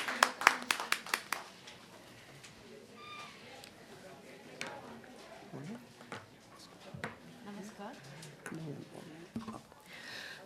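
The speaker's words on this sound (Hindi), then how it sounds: "एक बार जोरदार तालियों से अभिनंदन कीजिए।" At a literary session honouring a late writer, an audience gives a short burst of loud clapping to welcome a speaker. The clapping fades quickly, and scattered room noise and movement follow.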